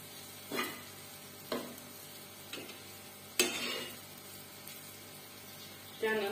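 Sabudana khichdi with crushed peanuts being stirred in a pan, giving a few scattered scraping knocks of the spoon against the pan over a low steady sizzle, close and fairly quiet.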